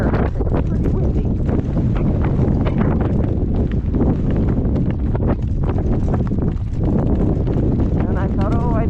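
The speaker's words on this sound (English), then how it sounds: "Is it windy? Yeah, when the back strap end flips up in the air, it's pretty windy" Strong gale force wind buffets the microphone in loud, continuous roaring gusts outdoors on a farm, with a person talking underneath.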